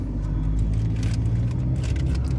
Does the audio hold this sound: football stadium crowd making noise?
no